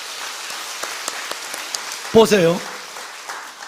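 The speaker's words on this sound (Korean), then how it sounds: "일단 박수부터 한번 쳐야 돼." A church congregation at a Sunday worship service claps in light, scattered applause, fairly soft and patchy, while someone speaks briefly partway through.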